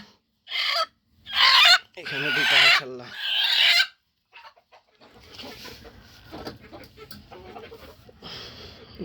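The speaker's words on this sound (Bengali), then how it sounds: "এই পাশে আরও একটা মুরগি আছে ডিম পাড়ার জন্য" Hens on a small poultry farm cluck in loud, close bursts, then a person speaks over quieter farmyard background noise.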